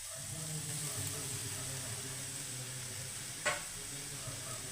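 Crushed chili, turmeric, garlic, cumin and curry leaves sizzling in hot oil in a pan for papaya thoran, a steady close crackling hiss throughout with one sharp clink near the end and faint talk over it.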